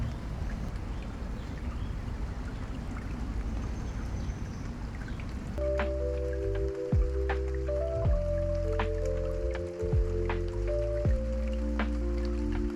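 Rain pours in a continuous hissing wash for about five seconds, then gentle melodic music with plucked notes takes over while the rain fades beneath it.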